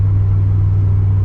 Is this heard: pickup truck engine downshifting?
yes